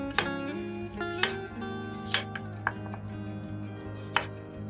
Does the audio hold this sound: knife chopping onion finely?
yes